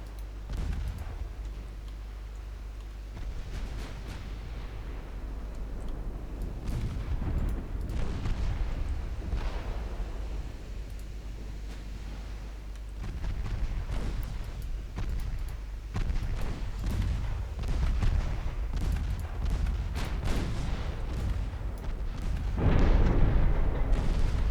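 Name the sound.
warship guns firing in Ultimate Admiral Dreadnoughts video game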